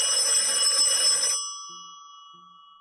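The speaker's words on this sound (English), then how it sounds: "another disconnected phone continued ringing its eerie calls" An old-fashioned telephone bell rings loudly with a metallic continuous trill, then stops abruptly, leaving a fading ringing tail and a couple of faint low tones.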